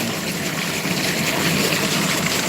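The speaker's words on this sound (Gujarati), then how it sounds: "રાત્રે તલમાં પાણી વાળવાનું શરૂ છે" Irrigation water flows steadily into a sesame field at night, a continuous broadband rushing and trickling that holds an even loudness throughout, with no talk over it.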